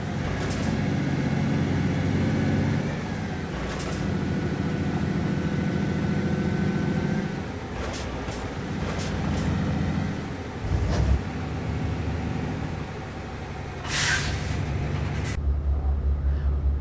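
A Volvo VNL truck engine in American Truck Simulator, driving the Reno to Redding route, gives a continuous low rumbling drone that shifts in pitch and load, with occasional brief clicks and bursts over it.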